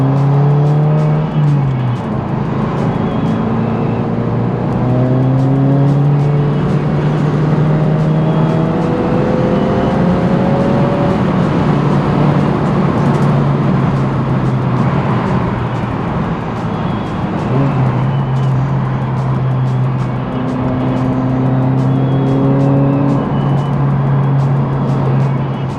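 A Subaru WRX engine drones steadily up close, rising and falling in pitch as the driver shifts through gears, with continuous road and tire noise.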